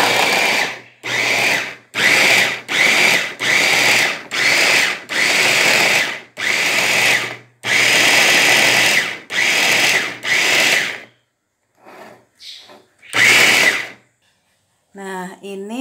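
An electric grinder whirring through spices for Balinese ayam betutu in loud bursts of several seconds each, separated by short silences, with brief talk near the end.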